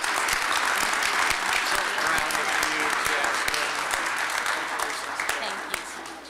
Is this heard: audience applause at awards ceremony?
yes